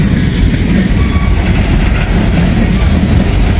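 An empty northbound gondola freight train rolls through a rail work zone in high winds, a steady close rumble of wheels and car clatter with rushing wind noise throughout.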